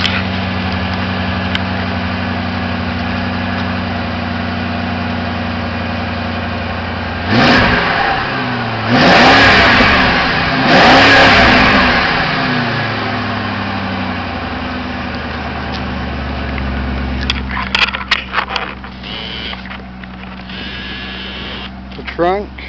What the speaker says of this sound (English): Get a sound of the muffler here.